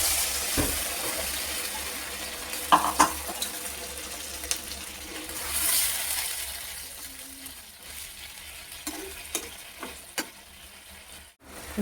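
Mustard-oil curry frying in a home kitchen pan after a splash of water, a steady soft sizzle with occasional scrapes and clinks of a spoon, close and continuous with no talking.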